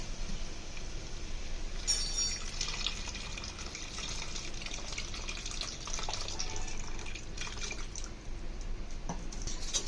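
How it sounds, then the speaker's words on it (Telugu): Soaked tamarind juice pours into a simmering egg curry, a steady close-up trickling and splashing of liquid with a few brighter clinks along the way. "మనం ముందుగా నానబెట్టుకున్న చింతపండు రసాన్ని యాడ్ చేసుకుంటున్నాను"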